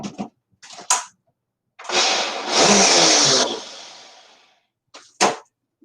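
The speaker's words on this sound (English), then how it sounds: "blender is gonna be being used." A kitchen blender whirs in a short loud burst, rising then winding down, with a few clicks and clunks before and after.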